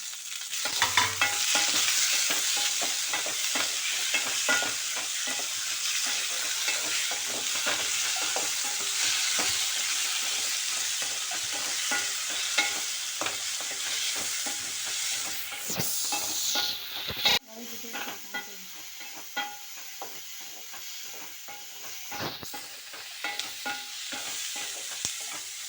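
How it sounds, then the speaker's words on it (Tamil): Onions and tomatoes fry in a pan in a Tamil kitchen, a steady hissing sizzle with constant stirring scrapes, quieting partway through as the heat settles. "வெங்காயம், தக்காளி எல்லாம் போட்டு வதக்குறேன்."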